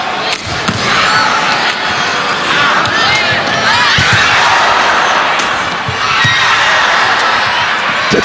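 A loud crowd cheers and roars at a badminton match at the 29th SEA Games, a sustained dense swell with shouts and whistles, with some sharp knocks scattered through it.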